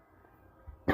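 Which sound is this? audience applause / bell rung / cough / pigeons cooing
cough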